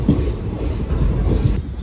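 Train rumble and rhythmic wheel clatter roll on steadily as a local train pulls into Virpur railway station on the Rajkot line, close and continuous.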